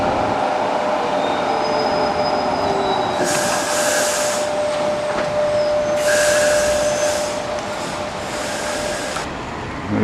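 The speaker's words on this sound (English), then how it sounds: "There's one of the Sheffield trams" A Sheffield tram on its way to Middlewood rolls past on a street in Hillsborough, a steady loud rumble of wheels on rail with a thin sustained squeal and bursts of hissing noise, no voices.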